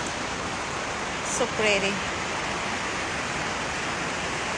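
A river flows steadily outdoors on a sunny day, making a constant broadband rush of water. A woman briefly remarks on the view over it.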